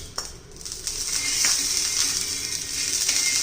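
Oil sizzles on a hot iron tawa with a continuous bright hiss and a few faint scraping clicks, close and steady.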